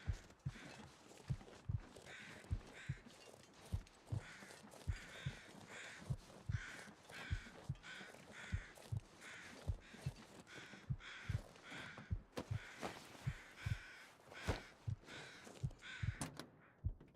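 Crows cawing in The Long Dark, repeated harsh caws at a moderate distance over a quiet wilderness ambience, mixed with regular crunching footsteps and a few dull thunks; nobody speaks.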